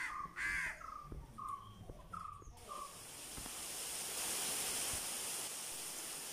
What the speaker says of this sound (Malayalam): അപ്പോൾ കാക്കകളുടെ ഭയങ്കര ബഹളം കേട്ടാണ് ഞങ്ങൾ